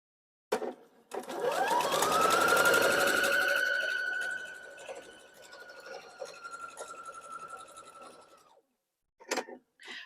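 A sewing machine stitching fabric for a quilted heart table runner, its motor spinning up fast into a steady whirring run for several seconds, then stopping, followed by a few light clicks near the end.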